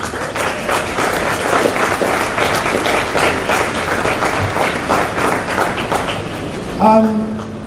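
A crowd applauds the organizers at the Tobago Rugby Classic with steady, fairly loud clapping, and a voice begins speaking as it ends.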